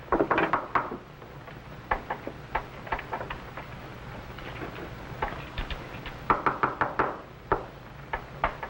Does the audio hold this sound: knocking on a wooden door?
yes